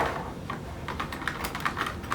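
A black plastic pry tool working up the keyboard of a Dell Inspiron 15 3000 laptop, giving a series of small, close plastic clicks and snaps spaced irregularly over a low background hiss.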